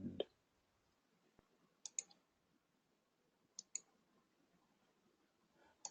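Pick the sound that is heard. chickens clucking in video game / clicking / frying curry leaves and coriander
clicking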